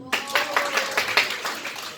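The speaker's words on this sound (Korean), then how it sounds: "자, 박수" Group of children clapping and applauding after a wooden chopstick is snapped at a church children's service, a lively burst of rhythmic claps filling the room.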